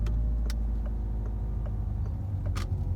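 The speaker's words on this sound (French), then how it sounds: "Là, j'ai bien démarré, je ne touche à aucune pédale." A car pulls away from a stop in first gear with no pedals pressed, its engine giving a low, steady hum from inside the cabin, broken by a few faint clicks.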